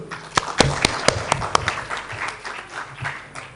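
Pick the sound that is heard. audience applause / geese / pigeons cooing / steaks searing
audience applause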